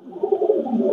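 A Pakistani Teddy pigeon coos close by in a low, rolling, continuous burble that swells slightly over its short length.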